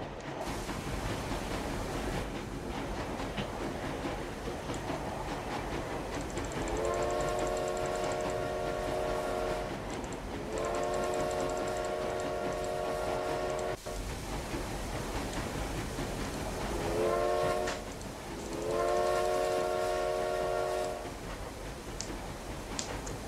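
Two pairs of steam-style train whistle blasts sound over a constant rumbling, rain-like background in a train video game, each blast held a couple of seconds, fairly distant and moderate in loudness.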